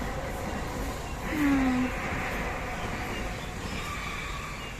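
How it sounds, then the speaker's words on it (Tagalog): A train rolls past near a lake house in Tai Po, Hong Kong, as a continuous broad rumble that swells briefly. A short high tone sounds over it, and faint voices are heard in the background. "Ayun na ang train ng Langga."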